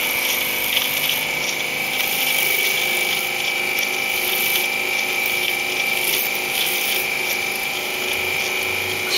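A Ford Cortina MK3 wiper motor runs steadily under power on the bench as old grease works out, giving a continuous whirring, gear-driven drone with a faint high whine, close and unbroken throughout.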